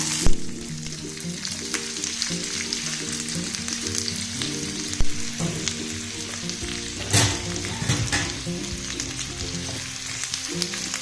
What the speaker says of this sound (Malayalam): നമുക്ക് ഈ അരിഞ്ഞു വെച്ചേക്കുന്ന സവാള ഇതിനകത്തോട്ട് എടുത്തിടാം.